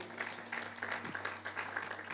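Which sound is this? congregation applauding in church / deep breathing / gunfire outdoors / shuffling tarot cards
congregation applauding in church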